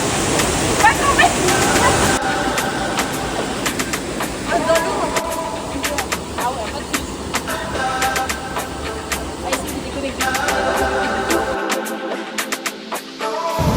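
River water rushes in a loud, continuous broadband wash while someone wades through it on a family holiday, with voices faintly mixed in.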